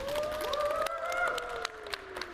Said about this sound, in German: brauchen wir nochmal doppelt so viel Applaus